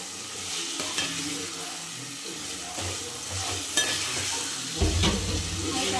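Chicken curry fries in a pan while a spoon stirs it, a constant sizzle with repeated scraping strokes and a louder scrape near the end, close and clear with no talk.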